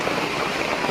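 Heavy rain pours down on a hillside in Kalinga, making a dense, loud, unbroken hiss that fills the whole moment.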